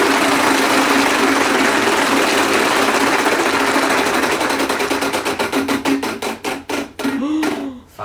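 A game wheel spinning at a home Wheel of Fortune fan recreation game night, its clicking pegs blurring into a fast rattle that gradually slows into distinct, spaced clacks before stopping.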